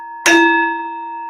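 A phone notification chime from across the room: one bright, ringing ding that strikes sharply and fades slowly, heard alone over a faint steady tone.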